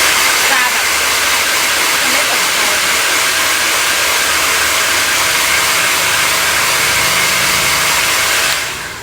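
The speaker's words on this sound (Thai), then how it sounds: "ถ้าสำหรับคนบางคนก็ก้มเป่าอย่างนี้ก็ได้นะ" A hair dryer blows steadily at close range while hair is being dried, a loud continuous airy whoosh that runs for about nine seconds before cutting off.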